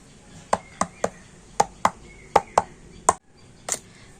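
Bowls of batter for a ripe palm fruit recipe being tapped down on a hard surface, a series of about ten sharp, evenly spaced knocks close by, with a brief pause before the last one.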